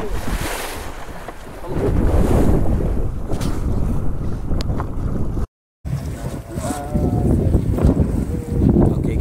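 Strong wind buffets the microphone on a fishing boat at sea, with gusty roaring, waves and surf throughout, a brief dropout midway and faint speech at moments.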